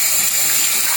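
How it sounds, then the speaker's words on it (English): Tap water runs steadily into a bowl while luncheon meat is rinsed, a close, continuous bright hiss and splash with no pauses. "wash the bowl out."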